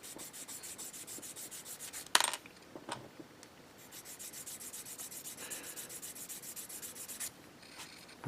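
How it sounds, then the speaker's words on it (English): Sandpaper worked over a plastic part of an HG 1/144 Gundam Aerial model kit, giving close, soft repeated rubbing strokes with a sharp clatter partway through and no voices. "I'm going to sand it down a bit to the side"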